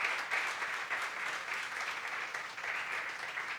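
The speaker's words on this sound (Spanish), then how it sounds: "Más fuerte el aplauso si es para el Señor." Church congregation clapping during a sermon, a continuous dense wash of hands with slight swells, fairly close and unbroken by speech.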